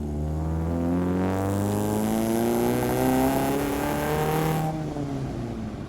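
A Chevrolet Spark engine revs in second gear from around 2,000 RPM in a brief pull, its harmonic note climbing steadily and loudly up close before easing off, with a raspy burble through a not-yet-warm exhaust.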